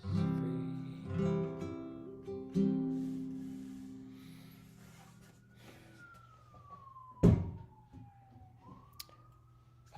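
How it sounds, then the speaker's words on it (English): A faint siren wails outside a window, its tone sliding slowly downward and then rising again in the distance, after louder music-like sounds fade and beneath a quiet room. "Apologize for any sirens that you hear outside in the moment of that coming through my window."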